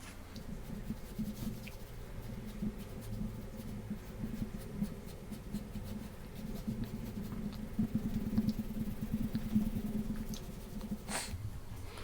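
Pen scratching line work onto paper while sketching a car, close and intimate, a steady run of short scratchy strokes and longer dragged lines that grow busier toward the end, no talk.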